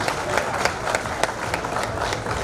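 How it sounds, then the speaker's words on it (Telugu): Audience applause at a birthday gathering for Mandava Murali Krishna, a dense, steady patter of many hands clapping together throughout, fairly loud. "ఒకసారి మురళి గారికి చప్పట్ల ద్వారా ఆశీర్వచనాలు అందించవలసిందిగా"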